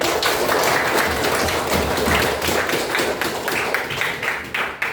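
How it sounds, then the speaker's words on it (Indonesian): An elementary class claps together in a school lesson, producing a steady, fairly loud patter of many hands that fades slightly near the end, with no voices heard. "tepuk tangan"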